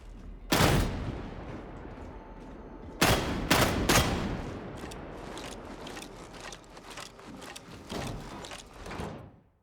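Shotgun blasts in the video game Warhammer 40000 Darktide: a single loud boom, then a quick burst of three close shots, followed by fainter reload clatter and a couple more distant shots, with no talking.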